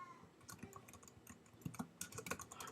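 Rapid, uneven clicks of typing on a computer keyboard, close and fairly quiet, coming in short clustered bursts with brief pauses between keystrokes.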